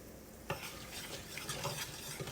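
Southern white gravy of flour and liquid bubbles in a pan while a utensil scrapes and stirs it steadily, a close, continuous sizzle with repeated scraping strokes and no talking.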